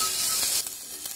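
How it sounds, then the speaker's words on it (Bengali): Chicken pieces dropped into sizzling ginger garlic paste for a chicken stew, giving a loud, bright frying hiss that holds steady, then softens slightly into a lighter crackle with a few stirring scrapes. "আদা রসুনের পেস্টটা ভাজা হয়ে গেছে, এবার এখানে আমি এই চিকেনটা দিয়ে দিচ্ছি।"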